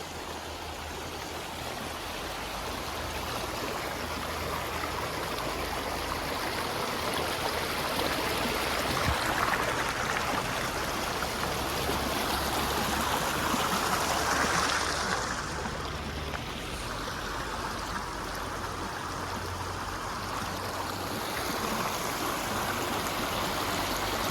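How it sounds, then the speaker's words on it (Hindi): Steady rushing stream water flows close by and fairly loud in Murree, a dense continuous wash with a brief swell in the middle, no voices over it. "ये पानी की जो आवाज़ है ना, ये साउंड है ना, ये इतना प्यारा साउंड आ रहा है"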